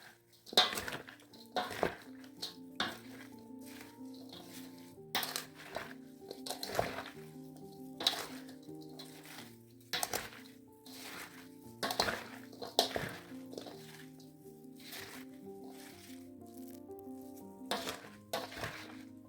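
Cucumber salad with apple cider vinegar stirred in a bowl: repeated clinks and clatters of a utensil against the dish in an irregular rhythm, close and fairly quiet, with faint background music.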